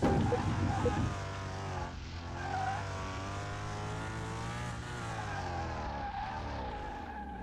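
An Aston Martin car drives and revs, its engine whining steadily with shifting pitch and a tire-squeal-like tone, close and continuous throughout, with no voices over it.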